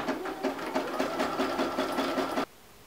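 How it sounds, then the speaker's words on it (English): Sewing machine running a narrow zigzag stitch across darts on a beanie hat, a close, steady rapid whirring with a regular pulsing rhythm for about two and a half seconds, then it stops abruptly. "I'm just gonna line that up on my machine and stitch right across."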